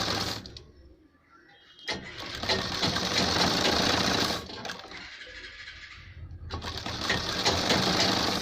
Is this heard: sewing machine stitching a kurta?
yes